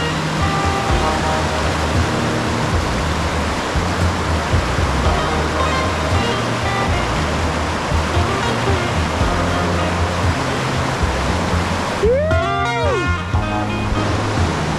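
Rushing river rapids roar steadily and close throughout while paddling a wild river on a camping trip, a continuous broadband wash of whitewater, with a brief whooshing swirl near the end.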